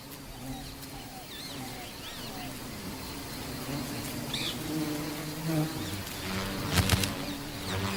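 Honey bees buzz and hum in a soft, continuous drone, with brief louder passes and faint chirps in the background.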